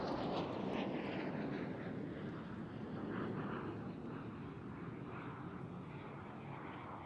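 Red Arrows synchro pair jets roar past at an air show, a broad, distant jet rumble that swells and slowly fades.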